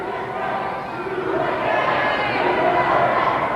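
Wrestling arena crowd roaring steadily during a pro wrestling match, a dense wash of many voices that swells slightly louder toward the end, with no single voice standing out.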